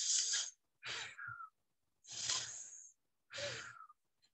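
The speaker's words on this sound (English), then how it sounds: "Now, breathe through your mouth, just like that." Four audible breaths pushed out through an open mouth, each a soft airy rush lasting about half a second, separated by short pauses, close and clear with no talk.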